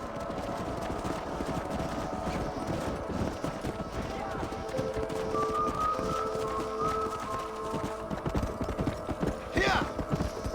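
Horse hooves clip-clop steadily in Red Dead Redemption, a continuous rhythmic patter under in-game voices and ambient music, moderately close, with a brief whinny-like sweep near the end.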